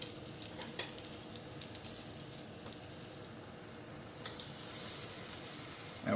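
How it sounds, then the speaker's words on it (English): Bacon sizzling steadily in a pan just after being flipped, with a continuous crackle and spit that swells slightly toward the end, close and moderately quiet, with no voices. "Give our bacon a quick flip"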